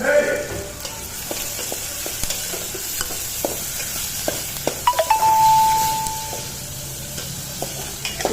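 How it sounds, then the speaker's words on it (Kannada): Onions frying in a pan with curry leaves, giving a constant close sizzle with scattered spatula scrapes and clinks, plus a brief ringing tone midway. "ಈರುಳ್ಳಿ ಚೆನ್ನಾಗಿ ಫ್ರೈ ಆದಮೇಲೆ ರುಚಿಗೆ ತಕ್ಕಷ್ಟು ಉಪ್ಪು ಹಾಕಿರಿ."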